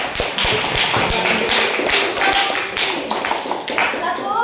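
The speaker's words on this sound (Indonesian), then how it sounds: "Tepuk tangan." Classroom students clap their hands together in a quick burst, close and sharp, with a teacher's voice and children's chatter mixed in during a lesson.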